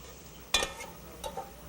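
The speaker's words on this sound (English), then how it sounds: "Let me stir the onions." Onions stirred in a sizzling pan, a faint steady fry broken by a couple of brief scraping strokes of a utensil against the pan.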